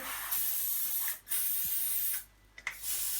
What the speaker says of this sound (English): take a can of silicone spray and go over the joints here